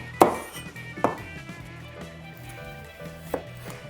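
A knife cuts through a stalk of green onion on a cutting board in a few sparse, sharp thuds, close up, separated by quiet gaps over a faint background hum.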